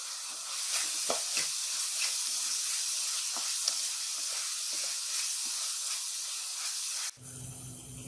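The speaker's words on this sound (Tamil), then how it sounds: "இப்போ வெங்காயம் நல்லா வதங்கிருச்சு" Onions frying in a clay pot make a steady close sizzle and hiss with occasional stirring scrapes, and the sizzle drops sharply near the end.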